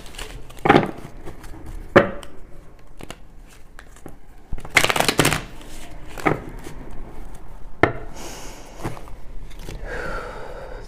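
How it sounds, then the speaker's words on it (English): Tarot cards are shuffled and handled in several bursts of riffling and slapping, with quiet rustling between them and no talking. "Gonna do three shuffles and a cut."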